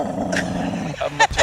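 A dog growling low and protectively at the shore, a short rumbling growl close by followed by a couple of sharper vocal bursts.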